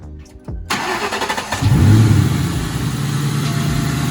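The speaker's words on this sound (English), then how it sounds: "Car started" A car with a newly installed aftermarket intake cranks with a short starter whir, then catches and revs loudly before settling into a steady, close idle.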